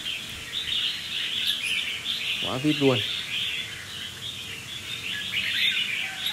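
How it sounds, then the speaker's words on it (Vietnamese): A red-whiskered bulbul from Laos gives a short, bright burst of chirping song against steady background hiss. Someone talks over it. "Em số 1 anh em nhìn nó hót lên cái quả gáy nó phồng khiếp luôn."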